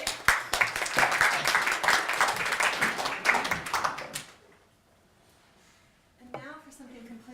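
Audience applause for a speaker at a humanities and engineering talk, dense clapping lasting about four seconds before fading to quiet, then a voice speaking.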